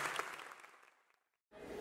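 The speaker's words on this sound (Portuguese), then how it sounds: "Salve de palmas pra esse casal maravilhoso." Audience applause at a stand-up comedy show fills the first second, loud and dense, then fades into brief silence before the clapping resumes.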